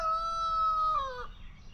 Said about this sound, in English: Mr. Rooster over there.